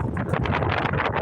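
Gusty wind blowing outdoors in the high desert, a steady broadband rush buffeting the microphone in uneven pulses with no other sounds standing out.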